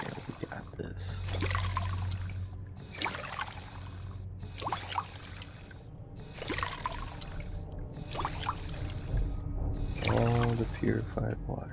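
Purified water being drunk in Fallout 4: a series of soft pouring, gulping liquid sounds repeats every couple of seconds over steady game ambience, with a louder swallowing burst near the end.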